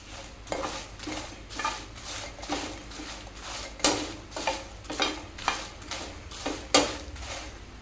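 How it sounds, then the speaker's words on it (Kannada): Turmeric, mustard seeds, pepper and fenugreek dry roasting in a pan, heard as a steady series of scraping stirs and clinks of a spoon against metal, about one stroke per half second, with a faint light crackle underneath. "ಇದನ್ನು ಇವಾಗ ನಾನು ಡ್ರೈ ರೋಸ್ಟ್ ಮಾಡ್ತೇನೆ"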